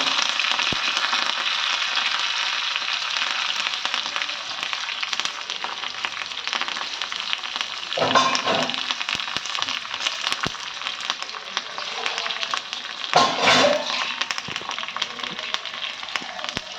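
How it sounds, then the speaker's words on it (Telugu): Curry leaves, dried red chillies and garlic fry in hot oil for a Rayalaseema-style pachi pulusu, giving a steady close sizzle with two brief louder crackling bursts midway and near the end. "కరివేపాకు, ఎండుమిర్చి, వెల్లుల్లి తీసుకున్నాం కదా, అవి కూడా వేసేసుకుంటున్నాం."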